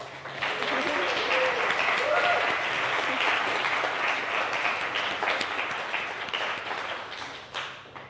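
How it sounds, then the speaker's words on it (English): A conference audience applauds Amplitude CEO Spenser Skates, steady dense clapping filling the room for about eight seconds and tapering slightly near the end. "could we all have a round of applause for Spenser Skates?"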